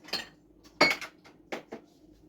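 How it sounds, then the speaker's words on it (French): A drinking glass handled in a home kitchen beside a kettle of hot water, giving a few sharp clinks and knocks in separate bursts, close by and with no talk. "j'ai un verre là, mais je vais le rincer quand même"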